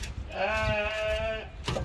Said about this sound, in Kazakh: қойлар қарындары ашып қалған. Маңырап жатыр.